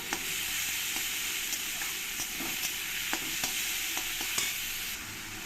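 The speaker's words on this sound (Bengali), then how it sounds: "এবার এর মধ্যে দিয়ে দেবো ওই টমেটো কাটা টমেটোটাকে আমি পেঁয়াজের সঙ্গে একটু কষিয়ে নেবো" Chopped tomato is added to browned onions and stirred in a hot pan, giving a steady sizzle broken by repeated light scrapes of the spoon, close and continuous with no talk.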